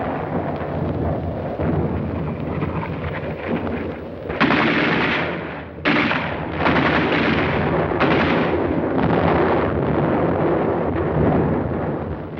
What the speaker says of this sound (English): they encountered mines and automatic fire from pillboxes